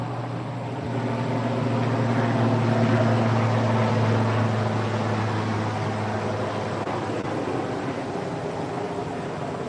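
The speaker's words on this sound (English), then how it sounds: "That was the helicopter drove by." A helicopter passes overhead outdoors, its steady low rotor drone rising to a peak around the middle and then easing off as it moves away, loud and continuous with no talking.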